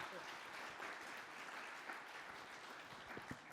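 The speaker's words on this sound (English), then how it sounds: "Please join me in thanking our panelists and on a round of applause." A conference audience applauds the panelists at the close of a discussion day, a dense, steady patter of many hands clapping across the room, fairly faint and evenly sustained throughout.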